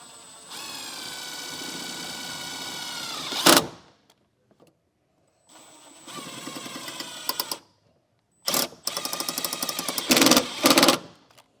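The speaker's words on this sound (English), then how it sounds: "We'll just run 4 screws into the holes there" A power driver with a 1/4 inch socket runs self-tapping screws into a mount for a trailer brake controller, three whining bursts of the motor rising and stopping, each ending with clicks and a sharp clatter.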